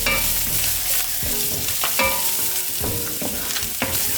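Garlic, cilantro and harissa frying in olive oil, sizzling steadily and loudly throughout with repeated scraping clatters as a utensil stirs the pan.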